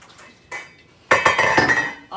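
Pasta being drained from a cooking pot while making Alfredo sauce: clanking pot and utensil knocks, then a loud rushing pour of water near the mic.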